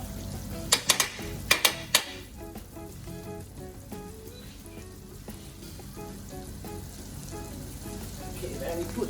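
Bread sizzles in butter on a griddle with a steady crackling hiss, opened by a few sharp clacks of utensils early on, while faint voices talk in the background.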